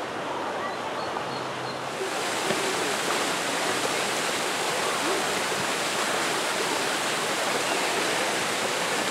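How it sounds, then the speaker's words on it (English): A Texas waterfall roars as a loud, steady rush of falling water, broadband and continuous, close by, with a quieter moment at the very start before the full roar takes over. "Waterfall in Texas."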